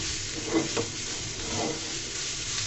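Spoonful of mixed spices being stirred into a cooking potato mixture, a steady scraping and soft sizzling texture throughout with a couple of brief louder stirs, no voices.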